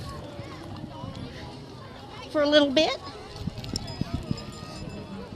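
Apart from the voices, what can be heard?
horses walking in a Christmas parade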